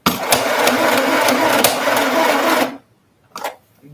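A sewing machine stitches fabric in a steady, loud rapid run for a bit under three seconds, then stops; one brief mechanical clunk follows.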